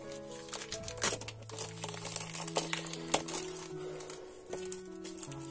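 The packaging of a creative kit for making treat bags is opened up close, with crinkling and crunching of wrapping in short bursts over soft background tones.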